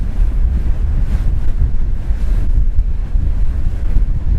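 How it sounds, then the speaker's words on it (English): Loud, constant wind buffets the microphone aboard a Trader 535 Sunliner motor yacht at sea, and the rumble of sea surf lies underneath it, with no pauses throughout. "the sound of the sea, the wind, salt in the air"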